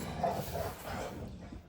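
Soft, muffled yips and whimpers from young dogs, faint and somewhat distant over a steady background hiss.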